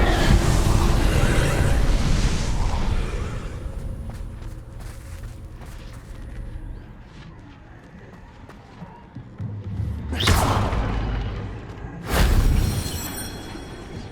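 An Incendio fire spell in the video game Hogwarts Legacy roars as a dense whooshing burst, followed by sharp bright swishes and flaring bursts near the end amid game ambience, with no talking.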